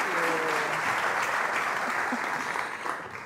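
Audience applause at a community foundation's 50th anniversary philanthropy celebration, steady dense clapping from a crowd over a few seconds that tapers slightly toward the end, with faint voices mixed in.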